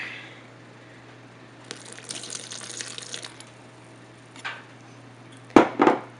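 Water pours and splashes into a mixing bowl of cake batter for a moment, followed by a pause and then a couple of sharp knocks and clinks.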